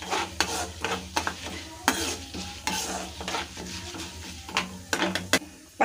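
Cumin, peppercorns and lentils frying in a pan for a temple-style curd rice tempering, with a soft sizzle under repeated, fairly close scraping strokes of a spoon against the pan.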